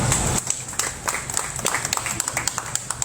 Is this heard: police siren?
no